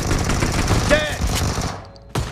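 Rapid automatic gunfire from a first-person shooter video game, dense bursts of shots and game effects filling most of the stretch before cutting out, with a brief raised voice mixed in.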